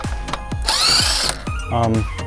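A power tool, likely an impact gun, removes stock lug bolts from the wheel of a BMW F30 330i: loud, close rattling bursts with a short sustained whir in the middle, heard alone.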